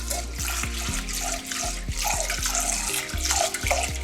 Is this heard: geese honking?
no